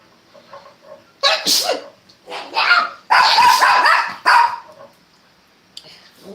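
A loud sneeze bursts out close by, followed by a few quick barks and yips from a dog reacting right after.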